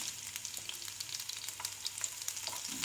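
Sliced garlic and ginger frying in oil, a soft steady sizzle with faint crackles throughout, quiet and continuous with no voices.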